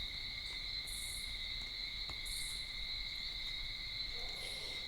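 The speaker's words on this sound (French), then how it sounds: "il y a ce son là, la nuit, avec toutes ces grenouilles." Frogs call at night in Guadeloupe, a dense, continuous chorus of high, steady whistling tones with occasional brighter chirps drifting in and out, no voices.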